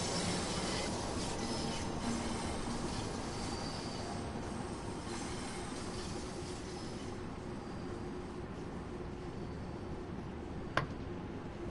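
Bakerloo Line London Underground train in Train Sim World 2 runs with a constant low rumble and faint wheel noise, and a single sharp click near the end.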